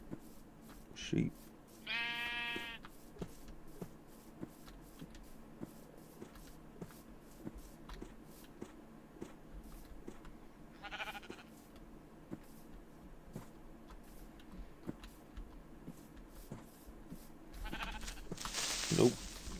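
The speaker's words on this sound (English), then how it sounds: "Sheep." Minecraft sheep let out short, wavering bleats in a blocky survival farm world, a few scattered calls over soft footsteps and faint background game noise, with a voice talking at times.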